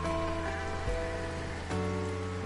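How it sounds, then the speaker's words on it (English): Irrigation sprayers in the farm game Farm Manager 2022 give off a steady hiss of spraying water, like rain pattering on a surface, under constant background music. "The sprayers are working."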